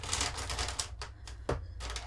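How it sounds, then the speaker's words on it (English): Felt tip and fine liner pens tipped out onto a surface, a dense rattling clatter of plastic pens tumbling continuously, close and fairly loud, with brief sharper knocks partway through. "sorry about the noise, all of my pens out on the side."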